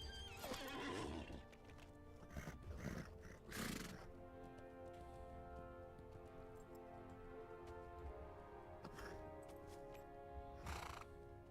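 Horse whinny and clip-clopping hoofbeats in the Lord of the Rings Online game, a neigh early on over steady clopping, with further bursts of activity and a faint ambient bed throughout.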